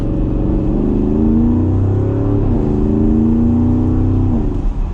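A 2020 Porsche Cayenne Turbo Coupe accelerates hard in Sport Plus mode, its exhaust note rising loud and close through several gear changes, each shift dropping the pitch before it climbs again.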